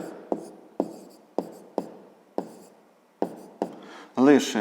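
A pen writes numbers on paper for a fifth-grade maths exercise, making about eight sharp, evenly spaced scratchy strokes, close and distinct. A voice starts speaking at the end.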